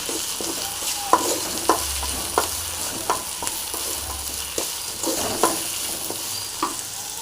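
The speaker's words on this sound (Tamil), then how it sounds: "இது கூடவே உப்பு கொத்தமல்லி கருவேப்பில் அதை போட்டு எல்லாத்தையும் ஃப்ரை பண்ணிக்கலாம் நல்லா ஃப்ரை ஆகிடும்" Salt, coriander and curry leaves fry in a pan for a crab soup, giving a steady sizzle broken by regular spoon taps and stirring clinks against the vessel.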